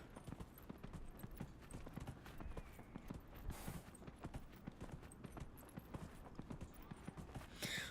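Horse hooves galloping in a video game, a steady rapid clip-clop rhythm at close range that runs throughout at moderate loudness, with no talking.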